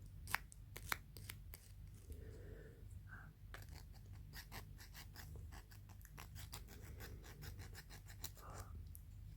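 Steady, quiet rasping and scratching strokes repeat in a brisk rhythm, sandpaper rubbing against small hard gear parts of a DIY music box kit, with no voices.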